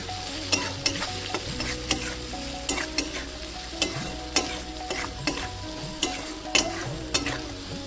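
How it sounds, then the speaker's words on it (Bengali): Ground spices fry with a soft sizzle while a spatula scrapes and stirs the pan in regular, rhythmic strokes. "গুঁড়ো মশলা দিয়ে যাবি ভালো করে নেড়ে নেবার সঙ্গে"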